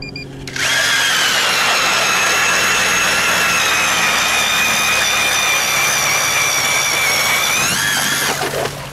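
Strikemaster 24-volt lithium electric ice auger boring through about 13 to 14 inches of ice: a loud, steady, high motor whine that runs continuously for about eight seconds at close range, then cuts off.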